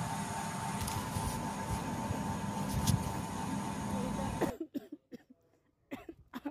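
A steady, loud rumbling background cuts off abruptly, then a person nearby breaks into a coughing fit of several harsh, uneven coughs separated by short silences.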